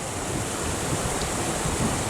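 Water gushes steadily out of a canal lock as the levels even out, a dense, continuous rushing roar heard up close, mixed with some wind noise and no talking.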